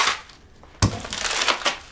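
Green leaf lettuce is torn in half by hand in a kitchen while making a green smoothie, giving one sudden crisp rip followed by a short crunchy crinkle close to the microphone, with no voice.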